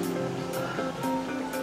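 Sea waves breaking on a beach at La Union, a steady broadband wash of surf with periodic swells, heard alone without voices.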